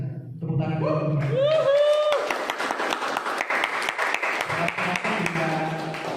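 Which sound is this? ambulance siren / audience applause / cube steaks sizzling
audience applause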